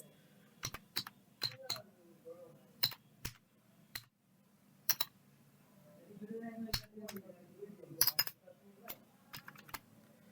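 Keys on a computer keyboard click in short clusters of crisp taps with brief pauses between them as the word Notepad++ is typed into a Firefox search bar. The keystrokes sound close and fairly quiet.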